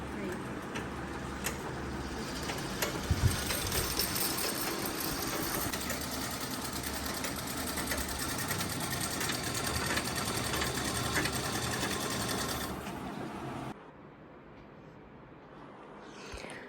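A sewing machine stitches a garment with a continuous close mechanical whir and clatter for about fourteen seconds before stopping abruptly, leaving quiet room tone; a voice talks in the background.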